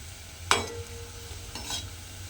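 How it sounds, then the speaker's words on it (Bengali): Potato snacks fry in hot oil with a steady low sizzle, broken by a sharp scrape and clink of a spatula turning them, then a second softer stir, close by with no talking. "আমি কিন্তু এইগুলো উল্টে পাল্টে লাল করে ভেজে নিয়েছি"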